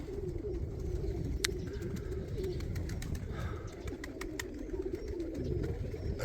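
Pigeons cooing in a loft, with soft repeated coos layered through a low steady background and a few sharp clicks and wing taps, close and continuous without any talking.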